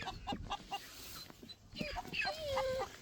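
Chickens clucking and squawking close by as they are moved in a box, short irregular clucks with a longer rising call, while people talk softly alongside.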